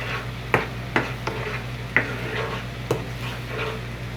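Chicken sizzles in a pan while being stirred and sautéed with salt for a Hyderabadi-style curry, with intermittent sharp spatula scrapes and knocks over a steady frying hiss, close and moderately loud with no talk.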